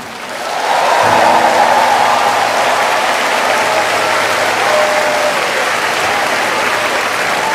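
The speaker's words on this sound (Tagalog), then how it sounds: "Lakasan mo ang iyong palakpak." A church crowd at a healing rally claps loudly and continuously, a dense roar of applause that swells in and holds steady, with a low hum of sound system or voices underneath.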